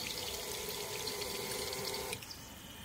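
A pet water container refills in a steady running gush with a faint pump whine, then the flow drops away abruptly near the end, leaving a quieter trickle.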